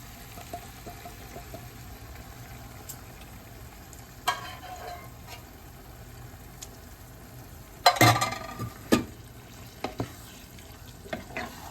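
Cooked beans, boiled with salt, are stirred in a frying pan for Georgian lobio: a soft steady scrape and sizzle, with a few louder clattering stirs near the middle and end.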